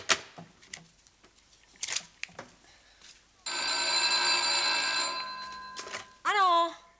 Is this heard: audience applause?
no